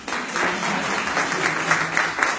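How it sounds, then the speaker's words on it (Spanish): Audience applause after a classroom session, a dense steady patter of many hands clapping at moderate level throughout. "Pueden aplaudir."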